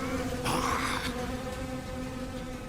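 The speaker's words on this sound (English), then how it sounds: "Not the bees!" Cartoon bees swarm with a dense, close insect buzz that swells loudly for about half a second, then hangs on as a fainter drone.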